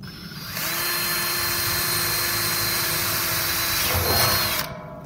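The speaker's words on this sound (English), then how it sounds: "I made a mark, and then I can drill." A power drill whirs steadily for about four seconds while building a drum smoker, starting abruptly and cutting off sharply at the end, loud and close with no talking.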